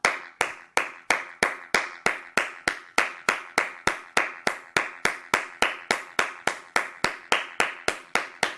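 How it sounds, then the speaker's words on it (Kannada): Fast, rhythmic hand clapping done as a warm-up exercise, with about three sharp, evenly spaced claps per second continuing steadily. The claps are close and fairly loud, and no one speaks. "ಈ ರೀತಿ ಫಾಸ್ಟ್ ಚಪ್ಪಾಳೆ ತಟ್ಟಬೇಕು"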